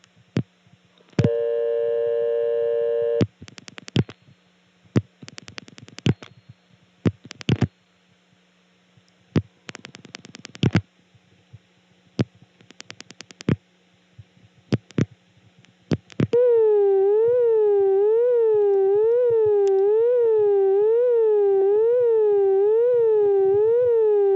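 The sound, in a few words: unusual telephone intercept tone for non-working number, Birdsboro PA 1976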